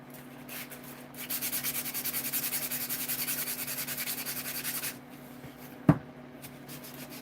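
Hand sanding a custom Buck 110 knife blade up to 600 grit, a steady rhythmic back-and-forth rasp for several seconds, then a pause and a single sharp knock.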